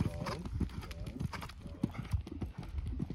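Horse hooves clip-clop through a small canter in an arena, a steady rhythmic beat that is close and clear, with a riding instructor talking over it and a brief snort or whinny.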